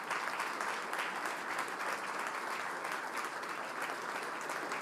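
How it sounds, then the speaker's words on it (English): A large audience at an urban forum in Azerbaijan applauds steadily, a dense, even wash of clapping that holds at full strength throughout. "let's applaud for sustainability"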